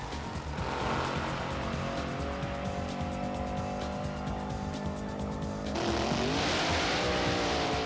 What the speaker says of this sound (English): In drag racing, two cars race on a short road called a drag strip.